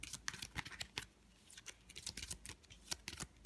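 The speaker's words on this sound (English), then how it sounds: "We shuffle up the cards that we used." Board game cards from Lost Ruins of Arnak are shuffled by hand at close range, giving quick, crisp riffling bursts in an irregular rhythm, quiet and alone.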